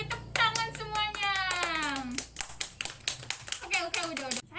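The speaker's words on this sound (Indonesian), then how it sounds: "Tepuk tangan semuanya." A classroom of students claps hands in a quick patter while voices rise and fall over it, one sliding up then down, giving a lively mix of claps and children's vocalizing.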